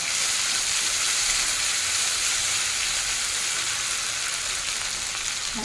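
A ground spice paste of ginger, garlic and cumin fries in hot oil for a fish curry with raw mango, giving a steady, close, even sizzle that lasts throughout with no talking.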